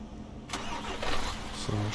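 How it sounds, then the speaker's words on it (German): A heavy truck engine cranks and starts in Euro Truck Simulator 2 on an oversize heavy-haul transport, a sudden broadband rumble that settles into a steady low idle, with someone talking over it. "starten schon mal den Motor"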